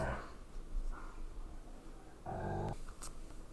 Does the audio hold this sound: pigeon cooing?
no